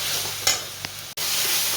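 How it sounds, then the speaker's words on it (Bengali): Spices for ghugni fry in a pan with a steady close sizzle, broken by a couple of scraping stirs from a spatula and a brief pause. "তো মশলাটা ভালোই ভাজা ভাজা করে নিয়েছি"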